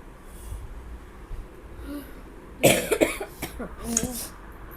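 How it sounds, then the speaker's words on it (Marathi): A few sharp coughs close by, coming in a quick cluster and then once more, over faint background voices. "तुला खोकला झालाय का?"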